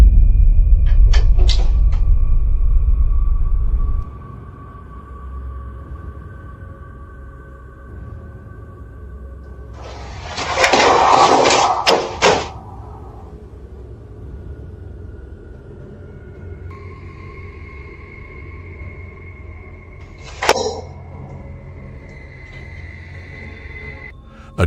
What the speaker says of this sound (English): A door opens by itself, causing a box to crash to the ground with a loud noise